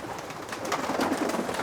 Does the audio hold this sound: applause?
no